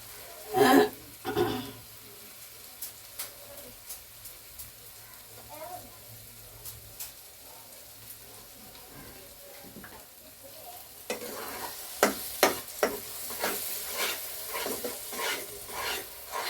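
Onion and cashew-raisin paste sautéed with cauliflower for a korma, with light intermittent stirring scrapes and a low sizzle that grows louder and busier toward the end, close by.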